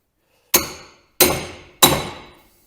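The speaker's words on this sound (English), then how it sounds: "It has actually started to move, so I'll just keep hammering away till it comes off" Three loud metallic hammer blows strike a steel kingpin on a Massey Ferguson tractor front axle at a steady pace, each ringing out and decaying before the next.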